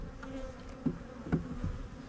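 Honey bees buzz at an open hive during an inspection of a colony with a small bee force, a steady low drone with a few louder passes close by.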